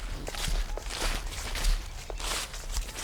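Footsteps walking through leaves on a flower farm in November, a soft steady series of crunching steps, fairly quiet and close, with no talking.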